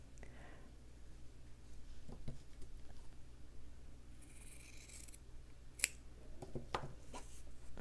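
Quiet, close snips of scissors cutting fabric scraps for a slow-stitching thread project, a few crisp cuts scattered over a soft room hum.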